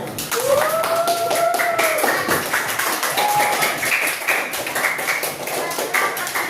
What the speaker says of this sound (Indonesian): Boleh kasih tepuk tangan semuanya?